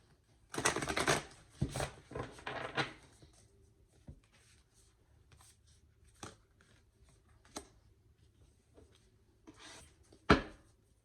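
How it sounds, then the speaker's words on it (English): Cards being shuffled and riffled close by, a burst of flapping at the start followed by scattered softer shuffles and a final sharp snap. "Give me a chance to shuffle these up."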